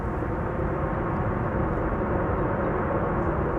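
A jet airliner landing at Amsterdam Schiphol with thrust reversers deployed gives off a steady, loud broadband roar that holds without a break through the whole stretch, heard alone.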